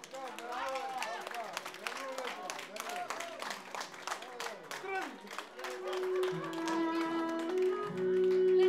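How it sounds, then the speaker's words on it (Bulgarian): Audience clapping at a family celebration, a run of crisp, distinct claps beneath a person talking, with music swelling in over the final seconds. "Аплодисменти!"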